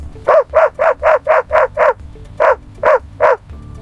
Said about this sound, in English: This is a Border Collie.